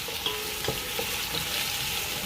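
Onion fries in a pan for jollof rice, a steady broadband sizzle with a few soft stirring scrapes and clicks, close and continuous with no talking.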